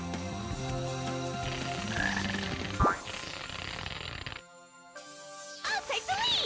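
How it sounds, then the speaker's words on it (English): Frogs croak in the Sonic Heroes video game, rhythmic croaking mixed with game music and sound effects, followed by a sudden drop and chiming tones near the end. "How are we supposed to move undetected when those frogs are everywhere?"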